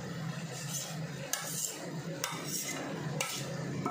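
Onions and potatoes fry in oil for a mutton curry, with a soft, low sizzle under a few sharp scrapes and clinks as the pan is stirred.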